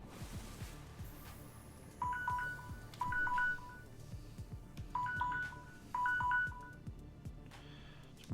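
Paired electronic phone-style beep tones from a handheld device in the underwater game Subnautica, sounding in short two-note bursts about once a second, repeating in two groups over a quiet low background.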